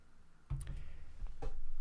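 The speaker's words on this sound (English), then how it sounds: "And let's stir this up." A whisky highball of Johnnie Walker Red Label topped with sparkling lemon soda is stirred in the glass, giving a few soft, close clicks spread over a quiet background.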